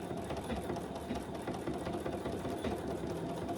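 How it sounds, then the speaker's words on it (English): Close, steady whir of a sewing machine stitching down a line on a clutch's slip pocket, with a dense, continuous motor drone and no talking. "we're gonna just stitch down the line that we just made"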